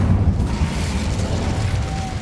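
Incendio fire spell cast in Hogwarts Legacy, a dense continuous roaring burst of flame with low rumbling booms, loud and sustained for the whole moment.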